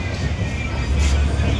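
A passenger train runs with a loud, steady low rumble and rattle heard from inside a carriage, with a faint voice in the background.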